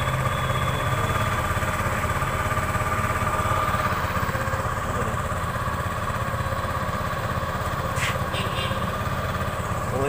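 TVS Jupiter scooter engine idling during mileage adjustment with the air screw, a steady close putter with a faint whine, running continuously under brief faint background sounds.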